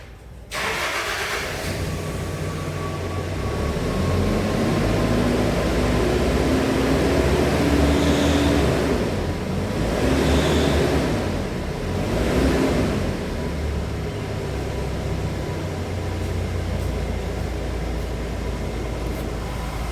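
A car engine cranks and catches after a repair, then settles into a steady, fairly loud idle with slight swells in revs, heard close up with no talking.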